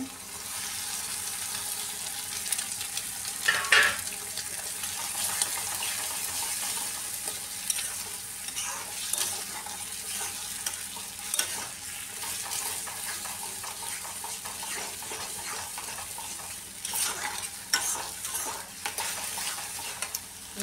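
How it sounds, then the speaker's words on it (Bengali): Eggs and tomatoes sizzle and crackle in a pan, with a spatula scraping and stirring now and then, close and continuous. "টমেটোটা একটু ভাজা ভাজা করে এর মধ্যে ডিম দিয়ে,"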